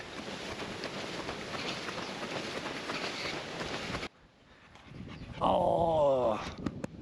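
Puppies move about outdoors by a lake near Japan's deepest lake. Dense rustling and scuffling fill the first half, then go quiet, followed by a loud wavering whine or yelp near the end.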